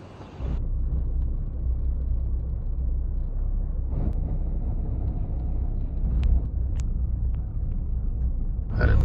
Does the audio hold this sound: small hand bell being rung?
no